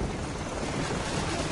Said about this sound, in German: Hubschrauber nähern sich schnell.